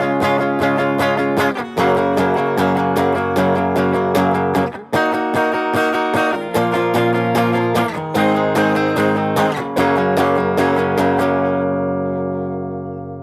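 Guitar chord progression from a song, strummed in repeated rhythmic bursts with brief breaks between chord changes, ending on a final ringing chord that decays.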